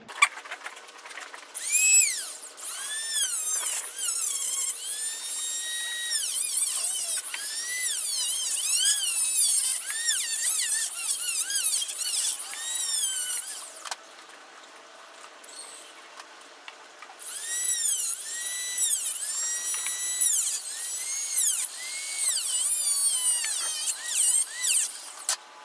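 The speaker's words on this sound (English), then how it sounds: "let me just find a little Dremel tool" Dremel rotary tool cutting during a car radio install, a shrill whine that rises and falls repeatedly in bursts, stops briefly midway, then resumes loud and close.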